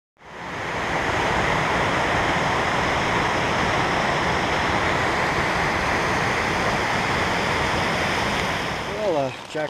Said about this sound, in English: And this deluge came